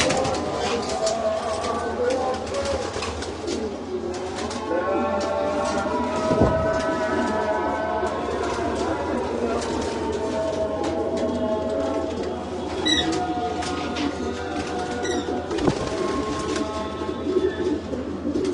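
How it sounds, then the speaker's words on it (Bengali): Pigeons coo softly in a loft, a racing competition bird among them, with steady low rumbling background noise throughout and occasional faint bird calls and clatter. "এই কবুতরটা আমার একটা উইনার কবুতর।"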